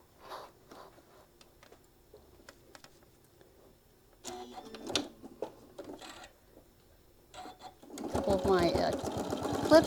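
A sewing machine stitches around the panel of a travel case for a mini iron, a quiet rapid mechanical patter that gets louder near the end, with speech and handling noises heard before it.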